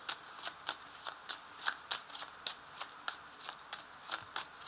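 A deck of tarot cards being cut and shuffled by hand, giving a close run of quick, evenly spaced riffling snaps at a soft, steady level.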